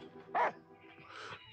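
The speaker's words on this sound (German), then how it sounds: "ist wohl der Hund." A dog in the video game Last Day of June gives a single sharp bark, followed by softer whimpering sounds, heard close and alone.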